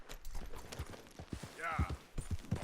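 Horse hooves clip-clop at a steady walking rhythm in Red Dead Redemption 2, moderately close and mixed with game sounds and talking voices.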